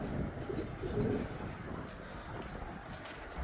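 A racing pigeon arrives at a loft during a fun race, with soft cooing and fluttering bird sounds close by, over a steady outdoor background and faint voices.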